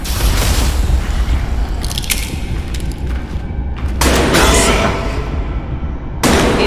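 Pistol gunshots fire in the horror game Amnesia: The Bunker, heard as sharp loud bursts near 4 and 6.3 seconds over a constant dense rumbling game ambience.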